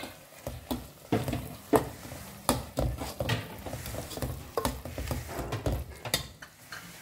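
Raw prawns, unseasoned, frying in a pan with sizzling under repeated scraping, clattering stirs of a spoon, uneven rhythmic knocks close by with no talking.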